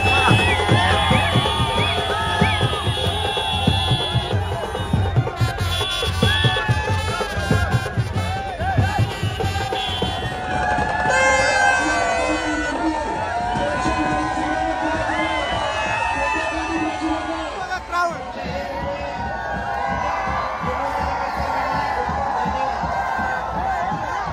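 A large crowd cheering and shouting at the Ekvira Aai palanquin festival, a dense, continuous roar of voices and whoops with steady background din throughout.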